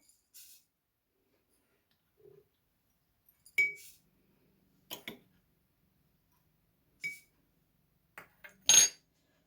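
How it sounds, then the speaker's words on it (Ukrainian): Teaspoons of sugar go into a glass jar for tomatoes preserved without vinegar, heard as a handful of separate light clinks and taps of a spoon against glass spread across a quiet kitchen, with a brighter clatter near the end. "Ми ложимо 3 чайних ложки цукру."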